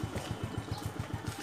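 A Yamaha Mio scooter engine idles with a steady, fast low putter, its rhythmic pulses even and moderately close.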